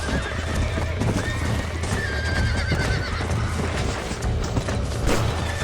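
Horse neighing with steady clip-clop hooves in the Red Dead Redemption video game, a loud continuous gallop with repeated whinnies over a busy game soundscape.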